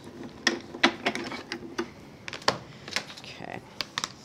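A die-cutting machine pressing a flower-shaped die through wool-content felt gives a quick series of soft, irregular clicks and ticks, fairly quiet and close, with a brief muffled rumble partway through.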